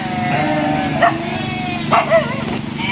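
A dog barks a few times outdoors at a remote rural home in South Sukabumi, Indonesia, short sharp yaps spaced apart over steady background noise and faint voices.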